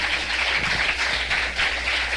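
A congregation applauds at a prayer service, a dense, continuous patter of many hands clapping together, fairly loud and sustained throughout.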